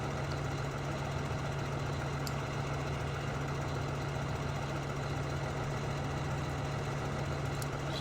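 A John Deere tractor engine in Farming Simulator 2013 runs at a steady idle, giving a continuous low droning hum with an unbroken, even rumble and no talk over it.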